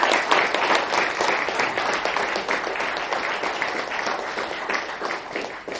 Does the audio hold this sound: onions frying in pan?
no